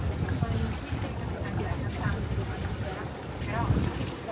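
Small harbour ferry boat crossing an Italian port, a continuous low engine rumble with water wash and gusty wind buffeting the microphone, steady and close throughout.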